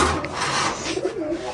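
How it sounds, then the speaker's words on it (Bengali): Turkish Tumbler pigeons at a pigeon farm coo softly in low, rolling bursts against a faint rustling background, nearby and without speech. "এটা কিন্তু দেশি কবুতর না, এটা কি ভাই? এটা তুর্কিশ টাম্বলার।"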